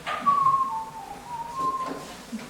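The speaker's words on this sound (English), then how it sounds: "she whistled" A woman whistles a sustained melodic tune near the microphone, the tone gliding and holding over a quiet background for a couple of seconds.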